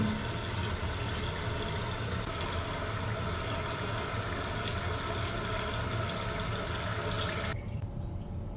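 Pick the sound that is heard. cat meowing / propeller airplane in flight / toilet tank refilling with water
toilet tank refilling with water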